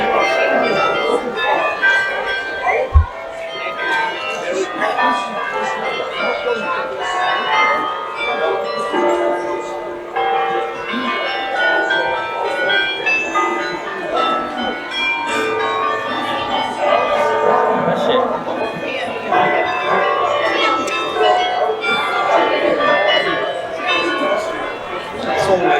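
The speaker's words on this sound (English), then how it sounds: "the Belfry of Brugge is chiming away" Medieval belfry bells in Bruges, Belgium, rebuilt in the 1300s, ring in a long, dense, continuous peal that fills the whole stretch, with crowd chatter and talk faintly underneath.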